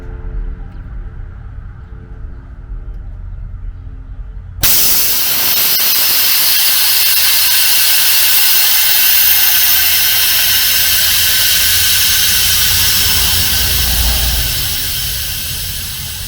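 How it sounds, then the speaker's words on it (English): Air rushes out of the front air suspension bags on a 1959 Chevrolet Bel Air as they deflate to 0 psi, a loud steady hiss that starts abruptly over a low background hum and holds for about ten seconds before easing slightly. "I'm going to let the air out of the front bags"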